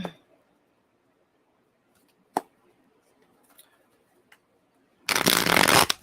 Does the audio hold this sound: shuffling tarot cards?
yes